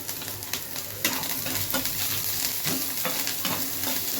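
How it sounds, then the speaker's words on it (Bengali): White sauce pasta being stirred in a frying pan over high flame, a steady close sizzle with repeated scraping strokes of the spoon against the pan, no talking. "এটা অল্প একটু নাড়াচাড়া করে"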